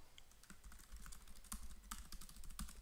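Keys clatter on a computer keyboard as a web address is typed: a quick, uneven run of close, crisp taps with a few sharper strikes.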